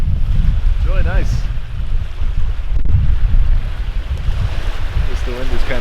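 Wind rushes steadily along a Lake Superior shore, buffeting the microphone with a loud low rumble, while someone talks briefly over it.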